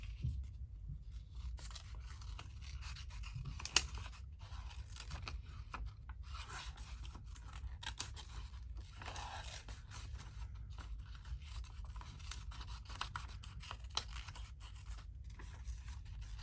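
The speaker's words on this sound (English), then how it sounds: "let's cut this one out." Scissors cutting out paper ephemera: soft, close snipping and rubbing of paper, repeated irregularly and continuously at low volume with no talk.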